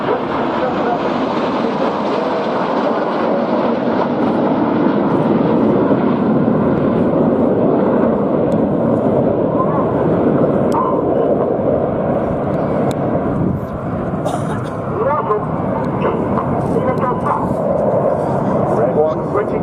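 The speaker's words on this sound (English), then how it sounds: "Red 1 switching to white smoke as the aircraft climb out to our left-hand side." Red Arrows jets at an air display at RNAS Yeovilton climb out overhead with a loud, sustained roar that slowly fades, while an announcer talks over it.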